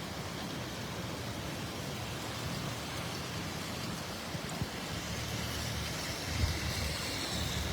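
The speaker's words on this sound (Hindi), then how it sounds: "और अब जो है बारिश हो भी रही है" Steady rain pours down in Ajmer, India, as a continuous, even hiss with no voices, with a faint low rumble of a passing vehicle near the end.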